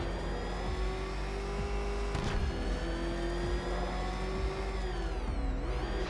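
Batmobile in the video game Arkham Knight driving and revving, a steady engine whine with rising and falling pitch running continuously, loud and close, with a brief burst near the middle and no talk.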